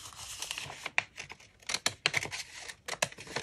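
Scissors snipping through altered sewing pattern paper, a series of faint, close, irregular crisp cuts with papery crinkling between them.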